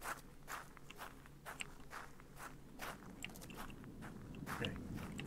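A creature scuttling in the horror game Husk, with quick irregular crunchy scrapes and clicks repeating over faint low ambience, fairly quiet and with no voices.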